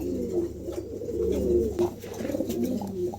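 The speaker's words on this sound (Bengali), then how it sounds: "এখানে একজোড়া বুলুবাল্লেস লাহরি আছে দেখেন চমৎকার দুটা কবুতরে" A pair of Lahori pigeons coo close by, their low, throaty calls rolling over one another steadily with no pause.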